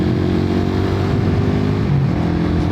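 A motorcycle engine running steadily and close by, its tone dipping briefly as it is shifted without the clutch on a smooth clutchless upshift, no voices.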